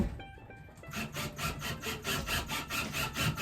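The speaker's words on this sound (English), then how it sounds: "Screwing things in the wall." Drywall anchors being screwed into a bathroom wall produce a steady, rhythmic grinding rasp in even repeated strokes, close and fairly quiet.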